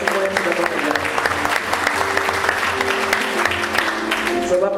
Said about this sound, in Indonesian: beri tepuk tangan buat semua yang sudah bekerja